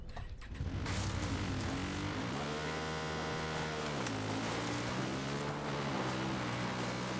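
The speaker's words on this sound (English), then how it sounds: "The engine sound of these bikes has been the same since like Far Cry 3, at least." A motorcycle engine in the Far Cry New Dawn video game hums steadily and loudly throughout, with its pitch dipping and rising as the throttle shifts. No one talks over it.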